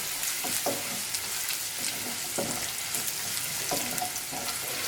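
Ginger and spring onion whites sauté over a high flame for restaurant-style chicken fried rice, a steady close sizzle with faint stirring scrapes and a few clatters, no talk.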